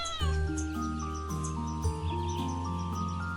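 A cat meows in a storytelling piece, a long drawn-out wail with sliding pitch that rises and falls, loud and close, with faint chirpy bird-like tones in the background.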